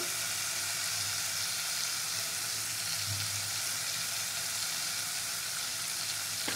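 Turmeric-laced spice paste with Kashmiri chili fries in hot oil, a steady even sizzle running unbroken throughout, with a faint soft stir or scrape near the middle and no talking.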